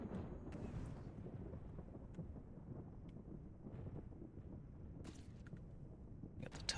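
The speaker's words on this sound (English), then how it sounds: "Oh, that's quite a heavy rain. I'd let the rain go, but the lightning is just" Thunder and heavy rain in the cultivation sim game Amazing Cultivation Simulator make a low, steady rumbling wash of storm noise, fairly quiet, with a few faint sharp crackles near the end.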